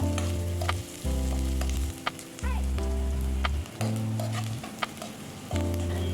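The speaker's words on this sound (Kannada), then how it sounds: "ಈರುಳ್ಳಿ ಇವಾಗ ಸ್ವಲ್ಪ ಫ್ರೈ ಆಗ್ತಾ ಇದೆ" Onions sizzle steadily in a pan for South Indian banana stem sabzi, a constant close frying hiss beneath rhythmic background music, with a few brief clicks from stirring.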